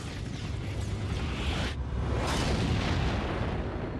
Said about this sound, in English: Why is it showing explosions and stuff already?